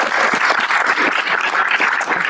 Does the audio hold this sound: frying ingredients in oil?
no